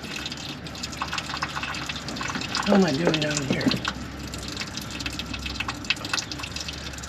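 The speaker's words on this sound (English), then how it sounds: "Somehow all that coolant is draining into... Oh, there's like a drip pan of some sort." Engine coolant drains and drips into a drip pan under a John Deere 4045T diesel on an Atlas Copco 375 CFM air compressor during a thermostat replacement, with brief liquid trickles and drips under a voice and steady background hum.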